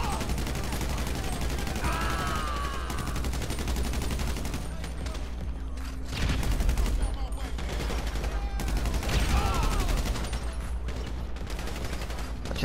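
Bursts of gunfire from a GTA V Online shootout in Grove Street, with rapid repeated shots and heavier volleys clustering around the middle and later part, set over a dense game soundtrack.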